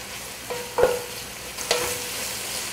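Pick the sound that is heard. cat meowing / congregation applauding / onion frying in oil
onion frying in oil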